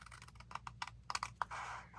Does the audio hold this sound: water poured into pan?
no